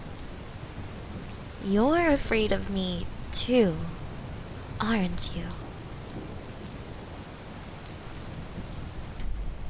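Steady rainfall from a nighttime storm pattering on surfaces as a constant wash of noise throughout, with a voice speaking over it in the middle.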